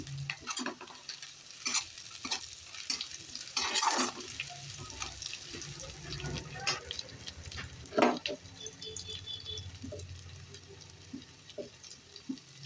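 Onion and green chilies frying in a pan, stirred with repeated scraping strokes over a steady low sizzle, close and moderately loud with no talking.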